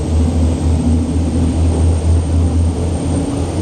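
A Voyager T2000 boat's engines roar steadily at high throttle, a loud, close, low droning rumble with a pulsing low hum that continues unbroken throughout.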